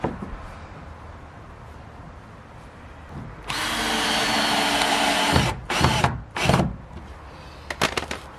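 A power tool cuts small notches into the bottom part of a garage gate, starting after a few quiet seconds as a loud steady whine, then breaking into several short, sharp bursts with brief pauses between.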